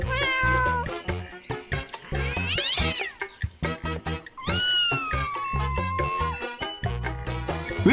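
Several drawn-out cat meows, loud and close, rising and falling in pitch over a busy, rhythmic musical background.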